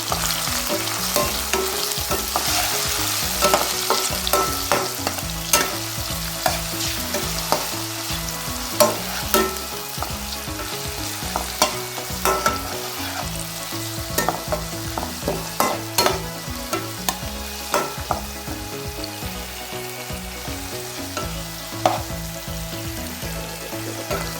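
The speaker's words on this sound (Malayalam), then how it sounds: "ഇനി ഇതെല്ലാം നമുക്കൊന്ന് നന്നായി ഒന്ന് മൂപ്പിച്ചെടുക്കാം" Chopped green chillies and curry leaves frying in a pan for a coconut fish curry, a continuous crackling sizzle with frequent sharp pops and spatters and the clatter of stirring throughout.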